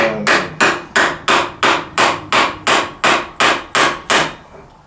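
A motorcycle fork seal being tapped into place with a large socket, eleven sharp, evenly spaced hammer blows, loud and close with no voices.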